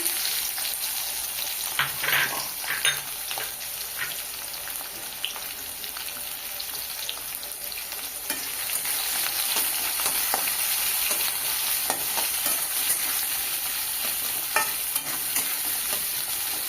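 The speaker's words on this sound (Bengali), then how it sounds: "পেঁয়াজ লাল লাল করে ভেজে নেব।" Chopped onions and bay leaf fry in oil left from frying potatoes, sizzling continuously and close up, with repeated scraping stir strokes throughout and no voices.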